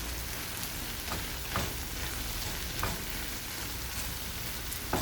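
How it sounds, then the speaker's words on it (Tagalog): Tomatoes sauté in a pan with a quiet, steady crackling sizzle, a few soft stirring clicks scattered throughout. "Magluto tayo ngayon ng ginisang kamatis guys."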